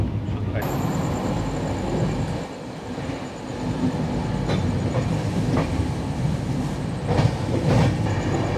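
Interior of the Puri Duronto Express first class on a slow run near Andul, with a steady rumbling wheel noise and faint periodic clacks on the rails, continuous and close throughout.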